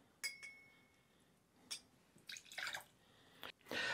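One ounce of freshly squeezed lime juice goes into a cocktail shaker for a Naked and Famous cocktail, heard as a few brief splashes and dripping bursts mixed with light glassy clinks, close and fairly quiet.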